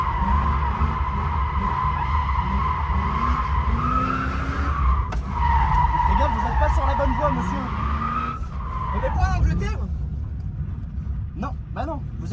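A car drifts on a track, tires squealing in long rising and falling screeches over a loud engine roar, with voices talking over the skids.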